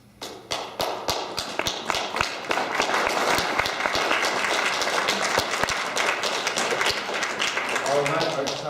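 An audience claps steadily, the applause building from scattered claps into a dense, sustained roar that carries on throughout.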